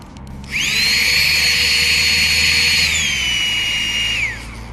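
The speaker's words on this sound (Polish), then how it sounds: "To jest pompka do nadbuchiwania materacy." An electric air mattress inflation pump starts up with a sharp whine and runs as a loud, steady high-pitched whir for about four seconds, then winds down and stops.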